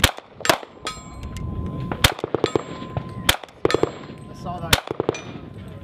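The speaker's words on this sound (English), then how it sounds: "You can hear it thump that plastic and just yeah. thump, thump." A KRISS Vector Gen 2 fires at plastic targets at SHOT Show 2015, giving a string of loud, sharp, close bangs and thumps at an uneven pace. A short spoken remark comes between the hits.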